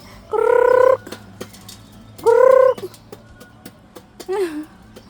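Several loud clucking, drawn-out calls from chickens nearby, in two strong bursts and a shorter one, with faint background noise between.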